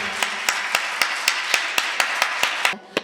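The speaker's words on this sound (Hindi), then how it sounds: "जोरदार तालियां बजाइएगा" A church congregation claps in a steady, even rhythm, about four sharp claps per second, holding the beat for nearly three seconds before it breaks off.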